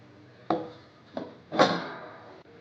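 A metal lid clatters onto a pan of cooking mixed-dal dosa, giving three distinct knocks and scrapes in a little over a second, close by, followed by a faint tap.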